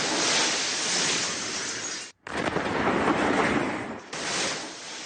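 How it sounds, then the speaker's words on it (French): Roaring, shattering blasts from a meteorite exploding over Chelyabinsk, Russia: loud, sustained broadband rumble broken by a short silent gap, then a second surge that fades into a third, all without speech. "Des explosions simultanées."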